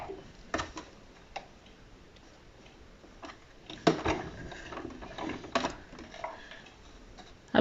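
A sewing machine stitches around the edge of a fabric protective mask, giving faint mechanical ticking and clicking in short, uneven bursts.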